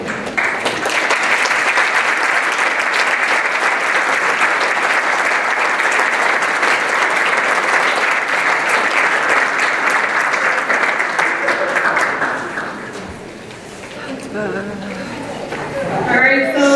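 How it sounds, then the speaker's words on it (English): An audience at a 2023 leadership institute graduation ceremony in Medina County applauds the graduates, a loud sustained clapping that runs for about twelve seconds before tapering off into scattered claps and murmurs. "let's just give them one more round of applause tonight"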